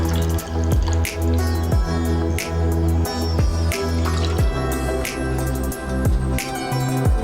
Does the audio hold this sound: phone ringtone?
no